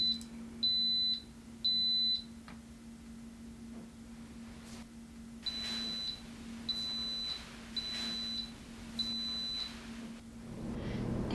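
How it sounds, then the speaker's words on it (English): An Instant Pot pressure cooker beeps sharply, first two separate beeps and then a run of four evenly spaced beeps, close and clear over a low steady hum. "the beeping went off"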